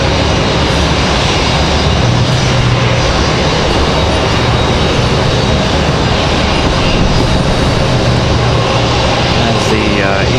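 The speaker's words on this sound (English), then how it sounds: "JetBlue is going to be our next departure, followed by Delta Airlines." A JetBlue jet airliner departing Raleigh-Durham International gives off a loud, dense, continuous engine roar that fills the entire stretch at close range without easing.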